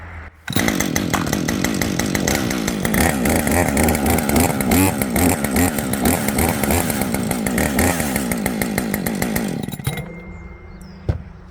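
A gasoline engine chainsaw, its half-choke released, fires up abruptly and runs at a loud, steady buzzing rev for about nine seconds, then cuts back sharply to a quieter idle near the end.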